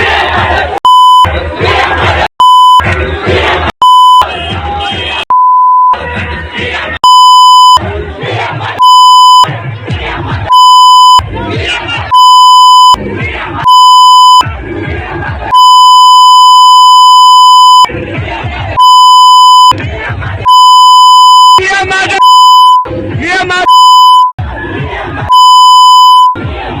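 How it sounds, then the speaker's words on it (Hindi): A long run of steady censor beeps cuts repeatedly across an angry shouting crowd at a violent street clash in Jharkhand, the loud bleeps alternating with bursts of yelling. "जिस तरह से खुले गाली दी जा रही है तो हमने उसको बीप कर दिया है"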